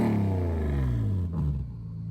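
Supercharged E46 BMW M3 engine revving up, a loud, steady harmonic drone with rising and falling pitch sweeps, close by and continuous with no talk.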